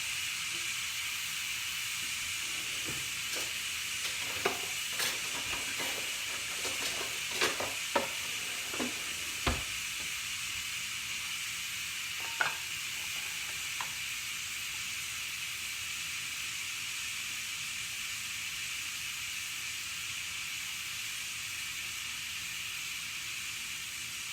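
Steam hisses out of a cooker while a roasted chicken dinner is being prepared, a steady, fairly loud hiss lasting throughout with a few scattered clicks and taps near the start.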